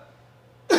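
A single short, sharp cough bursts out after a stretch of near silence, loud and close.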